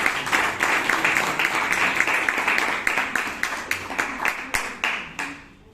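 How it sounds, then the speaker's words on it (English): A small club audience at a Bangalore Toastmasters meeting claps to honour the toastmaster. The clapping is steady at first, then breaks into distinct, spaced-out claps before fading out. "he deserves a big round of applause for today"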